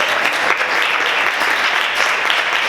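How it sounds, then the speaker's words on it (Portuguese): Church congregation applauding during a service: loud, dense, continuous clapping from many people filling the space for nearly three seconds, with no break. "Você pode aplaudir o Senhor e exaltar a Ele por isso"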